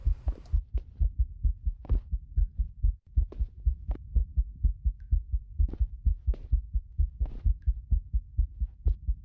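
A fast heartbeat pounds steadily in the video game Romut, with close, loud, low thumps in quick, even pairs repeating throughout and no one speaking.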